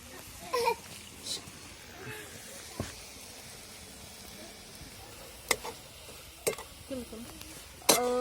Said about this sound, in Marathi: पात पण चांगली परतली